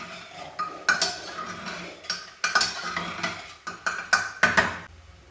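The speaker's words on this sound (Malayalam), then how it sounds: "മിക്സ് ചെയ്യാം." A spoon stirs banana flower curry in a metal pan, making a run of sharp clinks and scrapes in irregular bursts, close and fairly loud with no talk.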